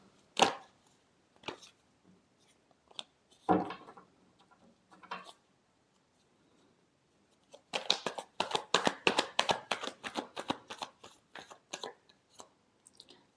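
Tarot cards being shuffled: a few scattered soft slaps, then a fast run of crisp riffling shuffle clicks, close and fairly quiet with no talking.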